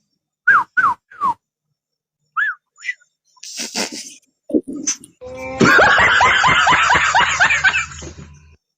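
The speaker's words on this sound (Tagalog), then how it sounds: "Sumipol ka nga, sir, 3 times." A man whistles three short, sharp rising notes one after another, followed by a burst of laughter and cheering from a studio audience.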